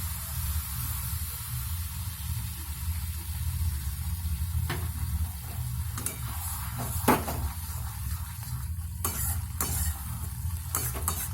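Ash gourd, coconut and milk simmer in a pan over low heat, producing a steady bubbling hiss with occasional clinks and scrapes of a utensil against the pan, and no talking.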